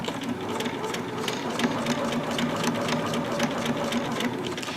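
A home sewing machine stitches a zipper into a fabric zipper bag, a steady, even mechanical whirr running throughout at close range with no talk.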